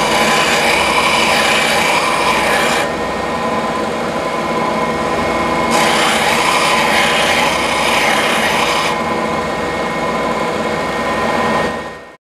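Wood spinning on a lathe is sanded, giving a steady, loud, high whine that rises and falls in slow waves and cuts off at the end.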